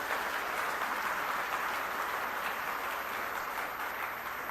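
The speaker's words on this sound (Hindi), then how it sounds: "एक बार जोरदार तालियां बजा के हमारी टीम का हौसला बढ़ा दीजिए" Audience applause at a political speech gathering: dense, steady clapping from a large crowd fills the whole stretch, loud and continuous with no clear voices over it.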